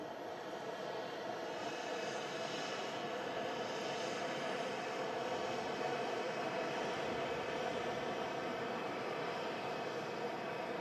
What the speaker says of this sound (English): Next to land in from Naples is this EasyJet A320.